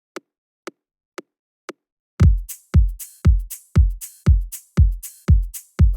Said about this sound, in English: that's what made the kick sound like this